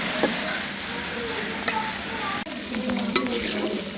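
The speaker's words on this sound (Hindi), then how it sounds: "अब हम प्याज डालेंगे इसी घी के अंदर और इसको लाइट ब्राउन करेंगे" Onions fry in ghee for an aloo arvi masala, a steady close sizzle with occasional scrapes and clinks as they are stirred in the pan.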